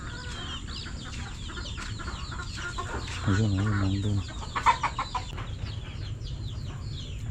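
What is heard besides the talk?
chickens clucking on a farm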